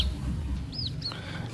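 A couple of short, high clucks from a chicken in a home setting, brief and somewhat distant over a low background rumble, with no talking.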